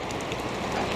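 Rain pattering steadily on surfaces around a farmyard during a storm, a dense close wash of drops with no talking.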